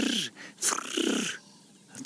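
Hadeda ibis chicks on a nest give rough, raspy wheezing calls in a few short close bursts, with brief pauses between them.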